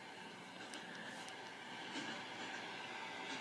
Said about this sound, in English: The train's coming to a stop.